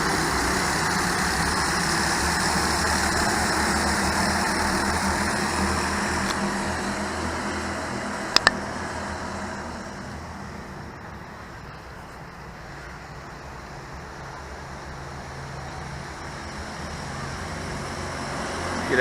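Race cars pull away at the start of a division race, a dense blend of engines roaring steadily and then easing off toward a lower, quieter rumble before swelling again near the end, heard without talk.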